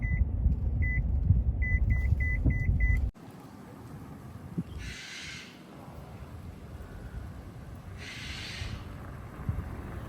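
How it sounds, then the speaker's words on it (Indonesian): A 2020 Mazda 2 Skyactiv-G parking sensor gives a string of short, evenly spaced electronic beeps while reversing, heard over steady car cabin noise. Quieter background sounds follow once the beeping stops. "udah dilengkapin juga sama parking sensor ya, jadi cukup lah kalau buat parkir mundur atau mau mepet-mepet gitu"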